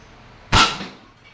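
A single sharp crack from a Crosman 1322 variable-pump airgun pumped four times and fired at a can from close range, followed by a brief decaying ring.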